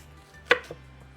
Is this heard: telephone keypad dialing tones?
no